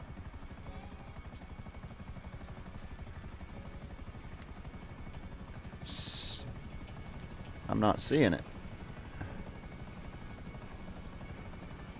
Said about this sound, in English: Don't crash the helicopter.